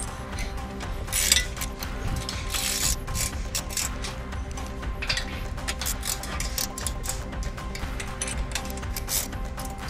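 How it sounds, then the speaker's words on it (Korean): Bolts on a half rack are tightened with a hand tool, giving a run of quick metallic ratchet clicks with scattered clinks, close and steady with no one talking. "조립을 마무리하지 않았던 이 중간 지지대 부분 마저 이제는 공구로 조여 주겠습니다"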